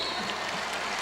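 Crowd applause at a basketball game, a dense continuous patter of clapping filling a brief moment, loud and steady from start to end.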